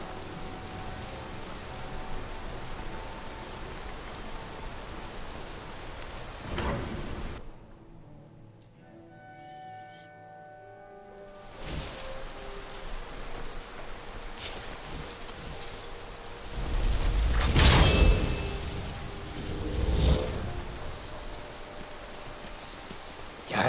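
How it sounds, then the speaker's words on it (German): Steady rain patters on a surface, briefly cutting out partway through, then returning with a few louder splashes and gusts. "Es regnet noch, aber ist kein Wolkenbruch mehr."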